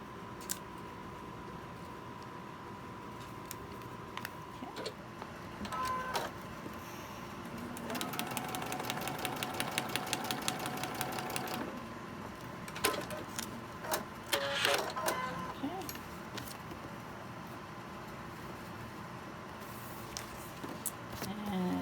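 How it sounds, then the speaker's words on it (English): A sewing machine stitches a paper-pieced quilt block in a short rapid whirring burst in the middle, with scattered clicks and handling of fabric and paper before and after, fairly close and quiet. "So let's take it over here and sew it."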